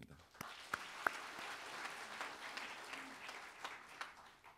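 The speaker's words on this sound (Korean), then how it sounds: "그래도 다시 한번 큰 박수 부탁드립니다" Faint, distant applause from an audience at a city's monthly assembly, greeting a fifteen-member student music group; a steady wash of scattered clapping with a few sharper individual claps, no voices over it.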